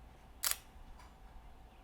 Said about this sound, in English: I'm fond of the sound of the mechanical shutter